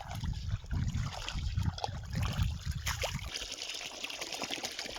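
Water running through a farm field channel, a steady close trickle and gurgle with low splashing that thins out near the end.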